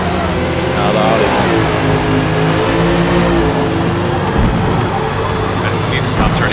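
An Audi GT race car accelerates on track in a racing simulation, its engine a loud, continuous mid-pitched roar that climbs and shifts as it pulls away.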